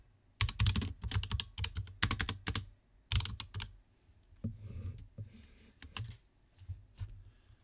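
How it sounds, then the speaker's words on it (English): Quick bursts of typing on a computer keyboard, close and crisp, with clusters of rapid key clicks separated by short pauses, then lighter scattered taps. "Type that in, hit enter."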